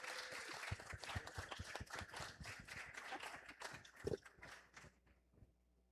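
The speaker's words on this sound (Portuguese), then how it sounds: "Palmas para os atores da cena 2." Audience applause for the actors of a scene at a family descendants' gathering: dense, steady clapping from a crowd, close and loud, thinning out and fading toward the end.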